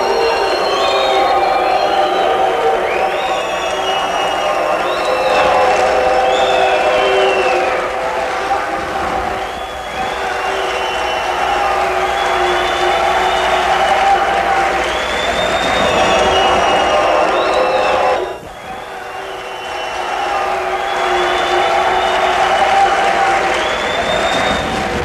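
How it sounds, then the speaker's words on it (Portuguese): A concert audience at a show mixes loud applause, cheering and booing in a dense, continuous crowd roar with a brief dip near the end. "É vaia, é aplauso."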